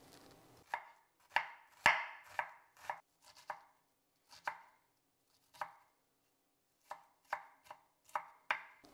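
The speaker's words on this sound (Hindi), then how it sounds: "आधा प्याज जो मैं दाल में उबालते समय डाल रही हूँ उसे मैं फाइनली चॉप करूंगी।" Half an onion is finely chopped with a knife on a board, a quick run of crisp, close chopping taps in irregular bursts with short pauses and no talk.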